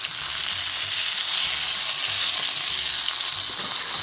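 Onions and garlic frying in a pan that was just used for burgers, producing a loud, continuous close-up sizzle with a low steady hum underneath and no voices.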